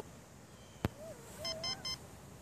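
A short sharp click, then a few brief electronic beeps with a faint wavering tone from a metal detector reading 82, quiet background, no talking.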